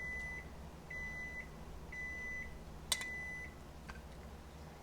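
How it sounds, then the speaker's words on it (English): A kitchen timer for potatoes and carrots beeps in short evenly spaced pairs, four rounds at a steady rhythm, fairly faint over a low kitchen hum with a single sharp clack midway. "That is our timer for our potatoes and carrots"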